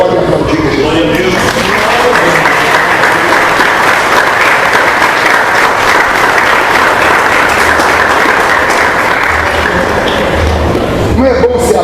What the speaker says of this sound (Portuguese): Vocês podem aplaudir Jesus.